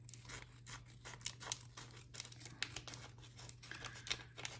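Scissors snip through a paper cash envelope with crisp crinkling and rustling, faint and close, in a quick irregular series of cuts over a low background hum.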